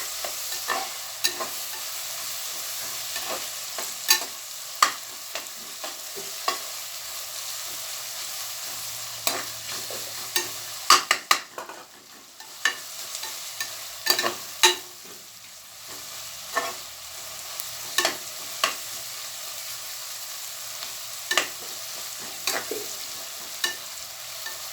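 Spices and tomato saute in a pan for chicken biryani, a continuous soft sizzle broken by regular sharp scrapes and taps of a spoon stirring against the pan.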